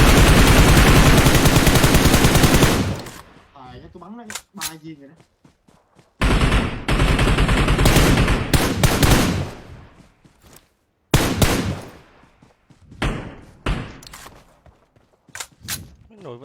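Video game gunfire comes in loud, rapid automatic bursts separated by short quiet gaps, with players talking between the volleys.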